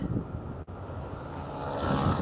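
Wind buffets a microphone on a Tokyo street in Asakusabashi, a continuous low rumbling roar with one brief dropout, steady and close throughout.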